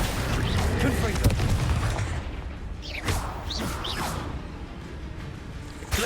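The Confringo blast spell in Hogwarts Legacy goes off as a booming, whooshing burst with rumbling impacts, followed by lighter swishing spell effects and scattered crackles.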